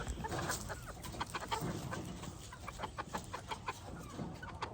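Gamefowl chickens, including a rooster, cluck repeatedly in short, busy bursts at moderate distance in their pens, with a steady hiss of background noise underneath.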